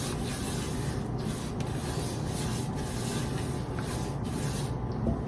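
Pecan praline icing stirred around a hot pot on the stove, a steady dense scraping and rubbing that continues without a break, close and fairly loud, with no talking.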